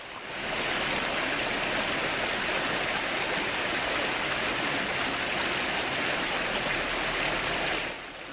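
Water runs steadily in a small stream through a little ravine of palms and eucalyptus, a dense, continuous rushing and gurgling close by that holds at an even level and fades slightly at the very end.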